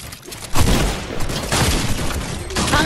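Bursts of gunfire in the video game Fortnite, in an arena match, come as a dense, booming volley that lasts through the clip, loud and continuous with heavy low-end rumble.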